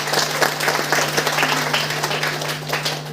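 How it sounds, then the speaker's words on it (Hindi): A women's meeting audience in Khalilabad breaks into steady, energetic applause, dense clapping that holds at an even level throughout alongside a constant low hum. "एक बार हमारे मैम के लिए जबरदस्त ताली होनी चाहिए,"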